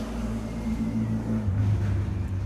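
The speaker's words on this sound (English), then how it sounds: "Oh, it's a noisy motorbike." A motorbike engine drones steadily nearby, its low hum shifting in pitch as it passes, with no talking.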